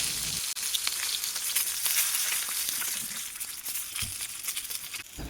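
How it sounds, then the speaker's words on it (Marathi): Whole green chillies frying in hot oil in a pan, a steady close crackling sizzle with occasional light pops and shuffles, no voices. "सगळ्याच मिरच्या तेलामध्ये अगदी व्यवस्थित भाजल्या जातील"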